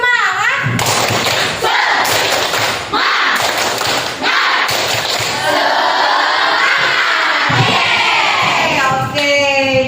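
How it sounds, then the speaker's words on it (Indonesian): A class of sixth-grade primary school pupils performs a rhythmic spirit clap in a classroom, loud, close claps and thumps in a steady pattern, with children chanting and calling out along with the beat. "Oke, tepuk semangat."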